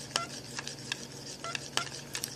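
A utensil stirring red food coloring into buttercream in a bowl, producing soft, irregular scraping and clicking taps against the bowl, quiet and close.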